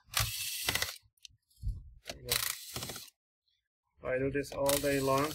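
A power screwdriver backing screws out of an HP 14 laptop's bottom cover, giving short whirring, ratcheting bursts close by, separated by gaps, with someone talking over parts of it.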